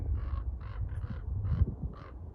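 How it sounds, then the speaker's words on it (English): Crows caw at the Grand Canyon, five or six evenly spaced harsh calls in a steady rhythm over quiet outdoor background, moderately distant and fairly faint. "basically all I'm getting is crows"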